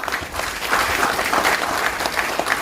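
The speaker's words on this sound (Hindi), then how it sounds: "जोरदार तालियां" Audience at a security leadership summit breaks into steady, loud applause, a dense wash of clapping that lasts throughout with no speech over it.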